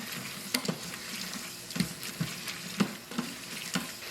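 Onions sautéing in an Instant Pot, a steady close sizzle punctuated by repeated scraping stirs of a spoon against the pot.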